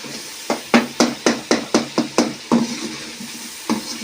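Mustard greens and tomato cooking in a pan, with a series of about nine regular scraping and stirring strokes at a steady rhythm, close and fairly loud, over a faint sizzle.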